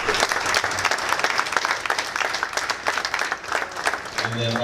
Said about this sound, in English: We give those guys a round of applause.